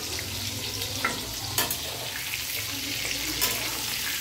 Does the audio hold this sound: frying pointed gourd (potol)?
yes